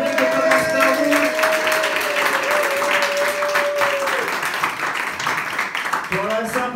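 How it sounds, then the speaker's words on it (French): Audience applause at a slam poetry night in Tours, a steady wash of clapping running the whole time under a host's voice, easing briefly near the end. "Vous pouvez vous applaudir public"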